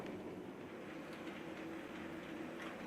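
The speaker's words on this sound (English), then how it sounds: "our review sample shunts the yard on Hornby Magazine's office test layout" A 00 gauge model shunting locomotive running on an office test layout, giving a quiet, steady mechanical rumble and hum with no distinct beats, faint and alone.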